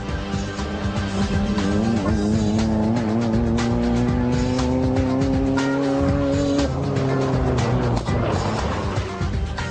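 Baja Bug Volkswagen Beetles in an off-road race pass with loud, rising engine whine that climbs in pitch and then drops, mixed with tire scrabbling, under a commentator's talk.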